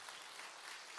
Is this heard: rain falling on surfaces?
no